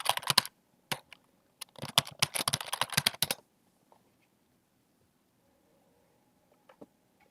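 Quick bursts of computer keyboard typing while signing in come up close and clear, then stop, leaving near silence with a couple of faint clicks.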